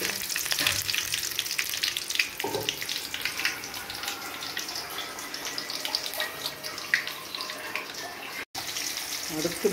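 Fenugreek seeds sizzle in hot oil in a kadai while mango pickle is being made, a steady close crackling hiss with a few soft clinks of a spoon.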